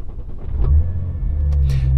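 An Audi's engine and exhaust rumble low and steady from inside the car while it drives to the store, rising slightly partway through.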